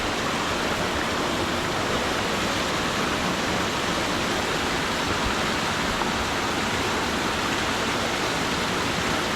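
Loud, continuous rushing water pouring under strong pressure through a traditional waterfall-fed wool washing basin, a dense steady roar with no pauses.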